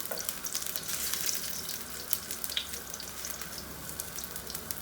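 Chopped garlic fries in hot oil in a pot, giving a continuous bright sizzle with small crackles and pops, close and fairly soft, while the pot is stirred now and then.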